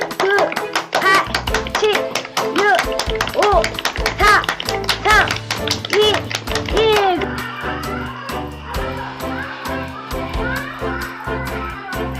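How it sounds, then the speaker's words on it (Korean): A group claps together in a laughter therapy clap game, with scattered and rapid hand claps mixed with lively shouting and children's voices, giving way to a denser, noisier patter of claps near the end. "박수를 치실 때 자기 박수 개수만 치시는 거예요"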